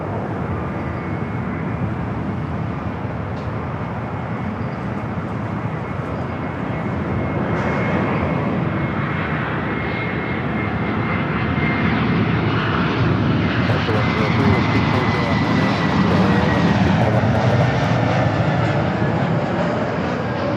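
Jet airliner engines roar at Los Angeles LAX airport, a loud, broad, sustained rumble that builds gradually over the whole stretch, as of aircraft taxiing and taking off nearby.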